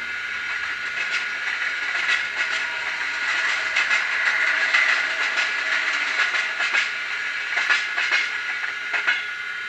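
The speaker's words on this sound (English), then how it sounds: "That's a freight train passing." A Fleischmann N gauge DCC sound locomotive plays a freight train passing effect, a steady metallic rumble with rhythmic clickety-clack wheel beats and hiss, moderately quiet, with no talk.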